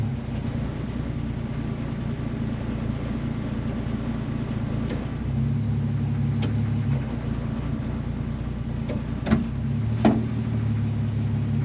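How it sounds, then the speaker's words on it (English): An AMC 258 six-cylinder engine in an M5 Studebaker truck with an eBay carburetor idles steadily, then drops into a heavier, labored drone once put in gear, with a few brief clicks, close and continuous. "I'll put it in gear and see what it does. I put it in gear, see it labors."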